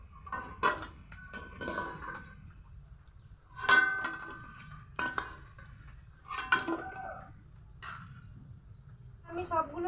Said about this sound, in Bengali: এখন তেল থেকে তুলে নিব।